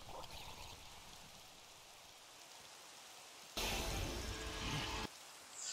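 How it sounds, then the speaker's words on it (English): Steady rain in the video game Minecraft, a continuous hiss that jumps to a louder, denser downpour for about a second and a half midway, then drops back to the softer patter. "Fight a drown when it's raining."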